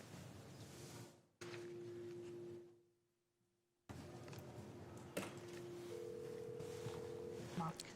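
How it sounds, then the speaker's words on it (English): Telephone line tones sound as a caller is transferred: a steady held tone breaks off into a stretch of near silence, then returns, with clicks and faint murmuring voices on the line. "So James, if you could transfer the caller, please."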